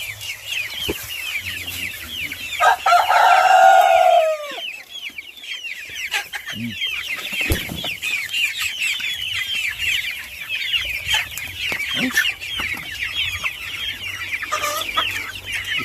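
Free-range native chickens cluck and chatter close by, with one loud drawn-out squawk early on and a continuous busy murmur of calls from the flock afterward.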